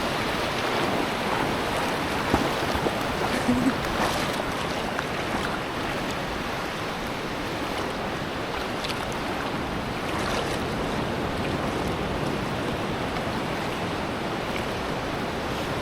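Sea waves wash onto Qiding beach in a steady, continuous roar of surf, with some wind buffeting the microphone throughout and no voices.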